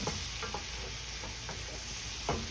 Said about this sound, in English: I'm gonna put a little garlic in here.